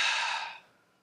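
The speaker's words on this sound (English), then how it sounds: "So usually we bring the air inside first, then give air out." A single deep exhale, a loud breathy rush of air close to the listener that fades out within about half a second, with no talking.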